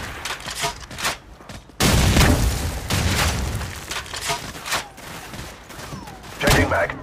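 Call of Duty 4: Modern Warfare gunfire crackles in dense, sharp bursts of rifle fire and heavier booms, loud and close, with pauses between volleys and game sounds mixed in.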